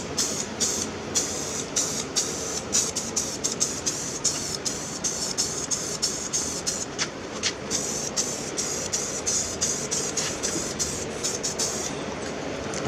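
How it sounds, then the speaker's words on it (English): Rapid bursts of hissing from a spray can set to vertical spray, a steady series of short sprays near a lawn mower being built outdoors in the rain, with no voices. "I'm going to try out this fancy can. I've got it on vertical spray."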